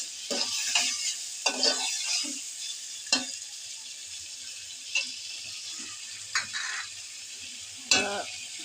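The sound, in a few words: potatoes being stirred and fried in a pan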